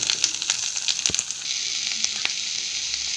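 Onion, garlic, chilli and brinjal sizzle in hot oil for chokha, a steady bright hiss with scattered pops and a few stirring clinks, close up.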